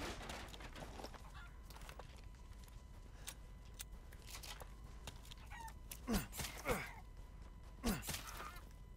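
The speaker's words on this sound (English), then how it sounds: "Chicken!" Chicken in the video game Resident Evil Village giving a few short clucks and squawks, with bursts around the middle and end over a steady game background hum.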